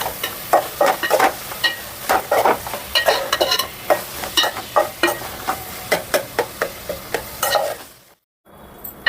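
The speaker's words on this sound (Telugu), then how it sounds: "కొంచెం పుదీనా, కొంచెం కారం వేసి బాగా కలుపుకోవాలి." Mint and chili being stirred into egg biryani masala frying in a pan, with a steady sizzle under repeated close scraping strokes of the spoon, broken by a brief silence near the end.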